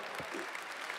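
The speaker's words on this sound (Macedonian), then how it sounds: "Еден аплауз сам." An audience at an award show breaks into a brief burst of applause, soft and steady throughout the short moment.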